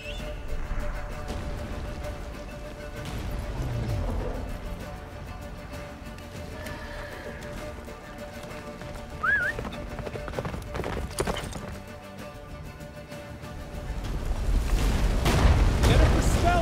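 A horse gallops in The Witcher 3 video game, rhythmic hoofbeats under game music, rumbling effects and shouted voices, swelling into a louder roar toward the end.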